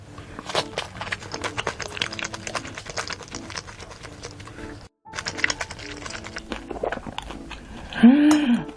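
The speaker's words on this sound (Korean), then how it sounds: "그동안 이 꿔바로우를 먹어볼까요?" Guobaorou, Chinese sweet and sour fried pork, bitten and chewed close up: rapid crunchy crackles that pause briefly midway, then resume, with a short voice near the end.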